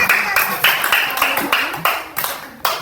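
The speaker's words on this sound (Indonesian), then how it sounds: "tepuk tangan untuk teman-temannya" Fifth-grade pupils clap for their classmates in a Qur'an Hadith lesson, a string of about ten sharp, close handclaps in a loose, uneven rhythm, with faint voices underneath.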